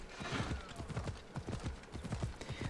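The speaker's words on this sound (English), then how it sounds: "You actually have to hold in the X button in order to call your horse." A called horse gallops in Assassin's Creed Odyssey, with steady rhythmic hoofbeats at a moderate level and a faint whinny, alone without talking.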